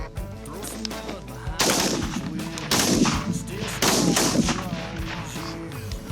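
Shotguns fire during a September goose hunt in Michigan, several sharp blasts in quick succession from a close group of shooters, with a brief pause and a few more shots following.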